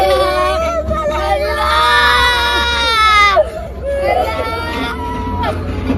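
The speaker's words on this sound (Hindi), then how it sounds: "गजा के बच्चों की रोने की आवाजें शायद आप तक ना पहुंची हो" Children in Gaza cry and wail loudly, high sobbing voices rising over a restless crowd babble close by.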